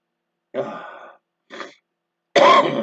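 A few short coughs and throat-clearing bursts, close to the microphone, separated by silent gaps, with the last one loudest.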